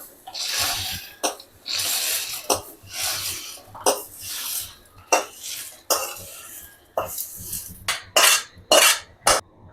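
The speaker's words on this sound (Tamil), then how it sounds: "இப்போ பொடியை நுணுக்கிக்குவோம்." Roasted spice powder for village-style idli podi being crushed by hand in a vessel: a rhythmic run of scraping, grinding strokes with short pauses, the strokes growing quicker and sharper toward the end, close and clear.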